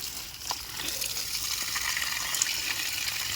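Water pours steadily onto small, sun-wilted garden plants, a soft continuous gushing splash that sounds close but fairly quiet, with no talking.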